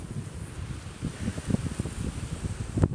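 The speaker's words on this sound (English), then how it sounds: "It's windy here." Wind gusts across Evergreen Cemetery in Barrington, Illinois on a very windy day, a steady low rumble of buffeting against the microphone with rustling bursts and a louder gust near the end.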